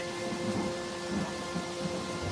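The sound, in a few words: heavy rain and thunder sound effect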